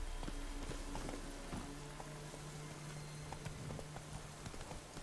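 Rapid clip-clop of horse hooves on a road in The Witcher 3, steady and moderately near, mixed with light game ambience and a low sustained tone, with no talk.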